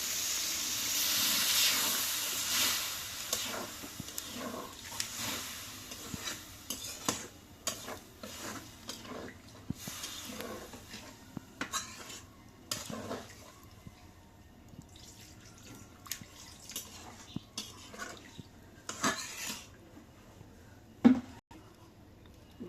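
Curry being stirred in a cooking pot before the gravy goes in: a scraping, sloshing stir with intermittent utensil knocks and soft simmering hiss, fairly quiet and close, with no talking.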